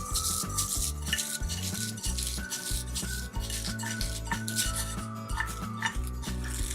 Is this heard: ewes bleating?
no